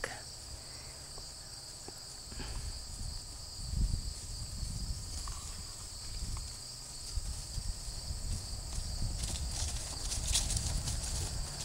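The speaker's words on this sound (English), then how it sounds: "Rick's gonna ride Flint up and do a back." A horse named in no detail is ridden and backed up outdoors, with scattered soft hoof clops on ground under a constant high insect chirring, fairly distant and quiet.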